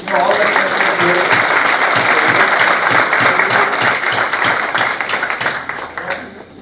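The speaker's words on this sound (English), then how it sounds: "can you give a big round of applause to all that" An audience at a corporate gathering breaks into loud, sustained applause, many hands clapping densely for several seconds before thinning out toward the end, with voices mixed in.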